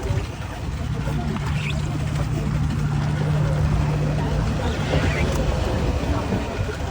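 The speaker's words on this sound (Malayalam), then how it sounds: "ബോട്ട് പോകുന്ന സ്പീഡ് നോക്കും." A speedboat runs fast on the water at Varkala near a floating bridge, a steady, droning engine roar with wind and water noise mixed in, continuous and fairly loud, with a voice talking over it.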